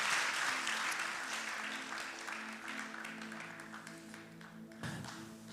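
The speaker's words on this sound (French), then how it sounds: "Est-ce qu'on peut donner un applaudissement au Seigneur ce matin?" Applause from a church congregation, fairly distant and steady, slowly tapering off, with a sustained musical tone humming underneath.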